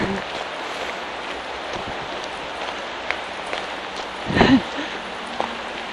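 Steady rain falling in a forest in the Berchtesgaden area, a soft continuous hiss of drops on leaves with a brief louder patter near the middle.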